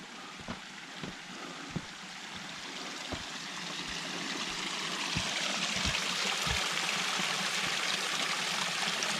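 Mountain creek flowing near a trail bridge at Mt Rainier, a faint steady rushing wash that grows slightly louder, with a few soft footstep-like thuds early on and no talk.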